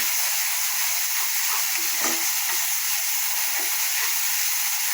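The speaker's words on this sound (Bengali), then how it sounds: "সব মশলা দিয়ে আমি ভালোভাবে কষিয়ে নেব।" Spices with coriander powder fry for a Bengali fish curry with cauliflower, giving a steady, loud broadband sizzle throughout, with a brief stir or scrape near the middle.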